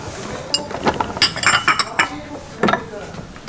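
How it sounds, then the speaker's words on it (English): Second-hand ceramic dishes clinking and knocking together as they are handled from a box of charity-shop goods, a cluster of close, bright chinks followed by a few more. "Cute dishes."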